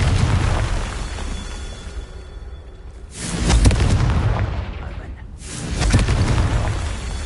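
Two heavy blasts of the Confringo fire spell in Hogwarts Legacy on PS5, each a loud booming burst with a long rumbling tail, separated by a brief quieter lull and framed by steady game ambience.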